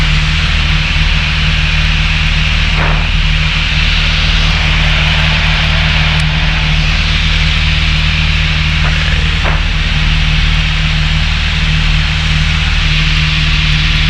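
A light aircraft engine drones loud and constant in flight, with a steady low hum and broad wind roar inside the cabin throughout.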